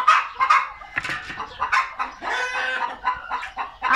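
Hens in a farmyard, including a scraggly, nearly featherless one, cluck loudly and continuously up close, overlapping squawks and calls following one another in quick, uneven bursts with no talk.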